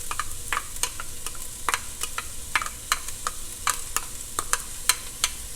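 Garlic and ginger added to softened onions sizzle in a soup pot, a steady light crackle with sharp spoon-and-pot clinks scattered throughout, close and moderately loud, no voices.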